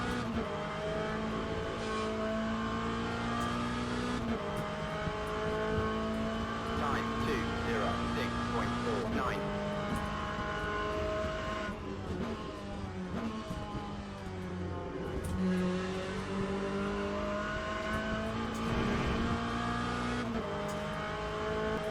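GT3 Corvette Z06 in the Le Mans Ultimate racing game, a continuous engine drone shifting pitch as it accelerates and upshifts through gears, with faint tire noise, steady and loud throughout.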